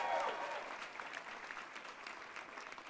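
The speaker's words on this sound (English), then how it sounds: "Give up a round of applause for Alex." Audience at a college commencement ceremony applauding, a continuous soft wash of many hands clapping, fairly distant and fading slightly after a loud start.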